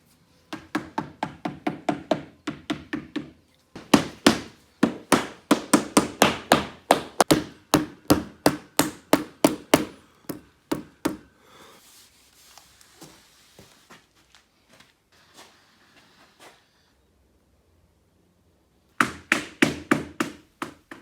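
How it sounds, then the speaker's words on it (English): Solid lipping is hammered into an MDF shaker door with rapid, loud bursts of sharp taps, broken by pauses and a quieter patch of lighter knocks before a final volley. "just fixing the solid lipping into the door, which will help me get a good fixing with the hinges"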